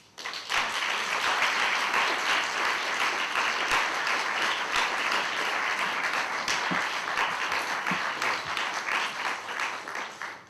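An audience applauds as poet John Murillo is welcomed to a reading, a dense, steady wash of many hands clapping close by for about ten seconds, fading slightly at the end, with no talk over it.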